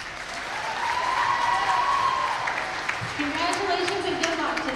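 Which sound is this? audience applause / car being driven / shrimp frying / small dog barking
audience applause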